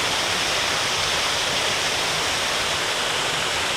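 A small waterfall below a mill at Babcock State Park, West Virginia, pours in a steady, full broadband rush, close and loud, with no other sounds breaking through.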